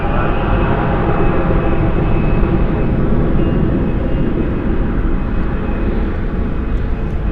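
Iberia airliner from Madrid at Dallas/Fort Worth airport at night, a loud continuous jet engine roar, steady and close with a faint high whine on top.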